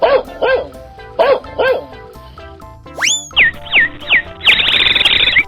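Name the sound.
dog barking in a 3D animal video game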